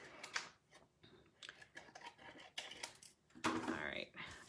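Scissors snip a small scrap sliver to fit a tight spot, giving quiet, irregular crisp cuts close by amid soft handling noise.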